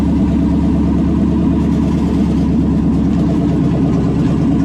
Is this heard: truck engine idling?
yes